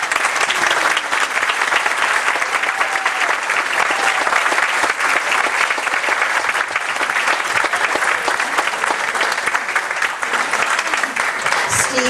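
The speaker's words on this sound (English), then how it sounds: "please join me one more time in a round of applause for our" Loud, sustained audience applause for the performers at a museum-in-the-streets opening ceremony, a dense, steady roar of clapping across the whole span with no pause.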